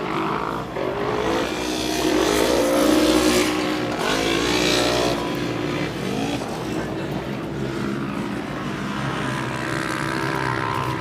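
Yamaha off-road side-by-side racing vehicles with paddle shifters roar past at an ATV/SXS race in Preston, Idaho, their engines rising and falling loudly throughout.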